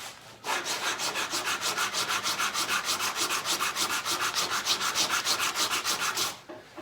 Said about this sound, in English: just taking the edge off the bottom of the leg, just a little chamfer on it